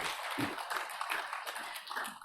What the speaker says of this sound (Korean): 이 시간 찬양을 받으신 하나님께 영광의 박수를 올려드립니다